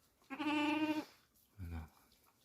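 Two bleats from young goats on a farm, newly born kids: one long, strained, wavering call followed after a short pause by a shorter, lower bleat, close and clear with no talk.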